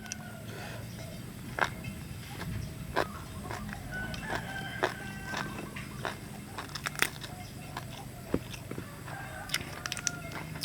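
Chickens cluck and a rooster crows at a distance in a rural outdoor cooking setting. The calls are soft and intermittent among sharp clicks, crunches and kitchen clatter, and brief voices are heard now and then.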